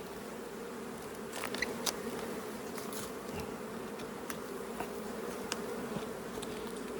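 Honey bees buzz at an open hive during a fall hive check, a steady dense hum heard up close that runs the whole time, with a few faint clicks and knocks over it.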